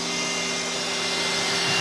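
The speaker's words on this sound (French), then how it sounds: "petit ventilo qui s'est déclenché, pourquoi j'en sais rien" Small cooling fan of a Creality Ender-3 V3 SE 3D printer, a steady close whirring hiss with faint tonal hum throughout, alone.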